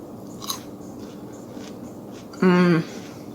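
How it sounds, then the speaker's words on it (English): A single crisp bite into a homemade sweet pickle, a short loud crunch close to the mic against a quiet room, with a faint earlier tap. "I just wanted to show you how crispy these are. I don't know if you can hear the crunch or not"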